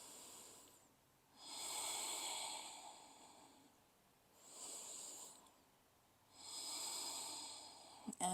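Slow, deep breaths during a fallen triangle yoga pose, three long airy exhalations close to the mic, each swelling and fading with quiet pauses between them.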